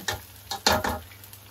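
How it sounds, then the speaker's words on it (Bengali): Soaked, drained rice being fried and stirred in a pot for morog polao, heard as a few short bursts of sizzling and scraping close by, with no talk. "চালটা আমি ভালো মতো ভাজা ভাজা করে নিব"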